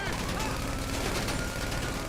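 Dense, continuous gunfire in GTA V Online as shots are aimed at a car's driver through the left front, a steady loud crackle of rapid rounds throughout with no pauses.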